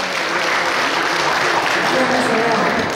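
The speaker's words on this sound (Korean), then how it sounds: "박수로 환영해 주십시오" A crowd at an event with a court costume show gives sustained applause to welcome the chairman onto the stage, a dense continuous wash of clapping at even loudness throughout.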